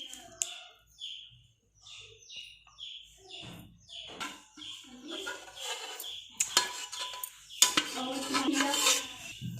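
Rice kheer is served out with a spoon, bringing irregular clinks and scrapes of spoon against dish that grow busier toward the end, with faint bird chirps in the background.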